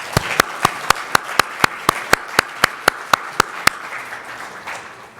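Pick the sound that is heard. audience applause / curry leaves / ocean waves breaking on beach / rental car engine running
audience applause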